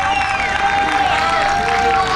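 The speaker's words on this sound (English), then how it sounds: "let's do a nice round of applause for the event committee and our City of Two Rivers Parks and Rec staff" An outdoor community event crowd in Two Rivers applauds and cheers, a loud steady wash of clapping and crowd noise with a sustained musical tone running beneath.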